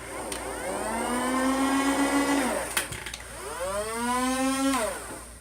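A motorized Nerf Fortnite AR-L foam dart blaster: its motor whirs up in pitch, then winds back down, with a sharp click between; the whine spins up and down again, loud and close.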